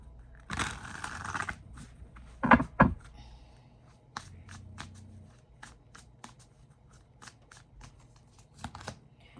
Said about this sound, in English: Let's just shuffle and get, say, 3 cards out.